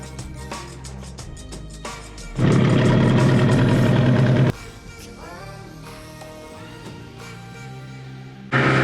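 A dinghy outboard engine idles steadily, with a loud burst of revving in the middle, then settles back to a low running hum.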